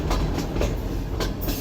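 A train runs over the Kirthar mountain range, with steady rolling rumble and periodic clickety-clack of wheels on rail joints, loud and continuous throughout with no voices.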